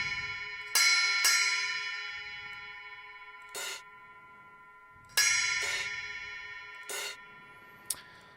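Programmed drum hits in Reaper from a metal kit, crash cymbals and a ride bell struck in sparse single hits with long ringing decays between them, clean and isolated, about six strikes.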